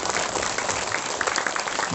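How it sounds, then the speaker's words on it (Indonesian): An audience claps for the preacher at a Sundanese Islamic sermon, a brief dense patter of applause at moderate loudness. "Tepuk tangan untuk kiai yang dekat."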